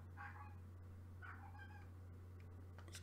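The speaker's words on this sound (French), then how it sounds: "excusez mon chat qui a décidé de causer" A house cat meows indoors several times in short, high-pitched bursts, faint over a steady low hum, with no talking.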